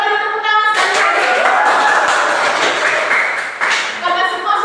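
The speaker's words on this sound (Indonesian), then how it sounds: "kita beri tepuk tangan sekali" A classroom group claps together during a microteaching role-play lesson, a dense burst of many hands that starts after a brief pause and continues steadily for about four seconds before easing off.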